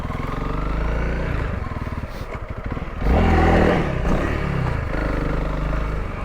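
A Honda CRF300L dual sport motorcycle rides on a fire line trail, its single-cylinder engine droning steadily up close, with a brief louder rev and clatter midway before settling back to a steady run.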